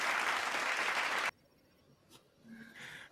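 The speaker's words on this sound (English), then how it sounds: "Let's get a round of applause." Talk show audience applauds a guest: a loud, steady burst of clapping from a studio crowd that stops abruptly, followed by faint room noise and a brief murmur.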